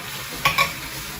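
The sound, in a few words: lo mein noodles added to a sizzling pan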